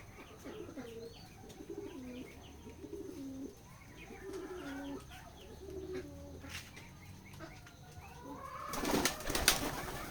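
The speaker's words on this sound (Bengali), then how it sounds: "দেখতে পাচ্ছেন আমাদের খামারে মাশাআল্লাহ অনেকগুলোই কবুতর আছে।" Pigeons at a village pigeon farm in Betikhola, Keshabpur, Jessore, resting after a midday feed, give repeated soft, rhythmic coos at close range, ending in a burst of wing flapping.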